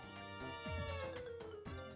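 A cat meows after its tail is stepped on, giving a short pair of strained, rising yowls, fairly faint and close, against a steady background hum.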